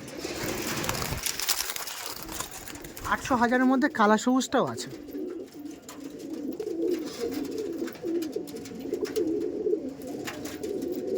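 Low pigeon coos from a loft of Madras-type tournament flyers in Belgharia rumble steadily underneath someone talking, with a louder, rougher burst of sound midway.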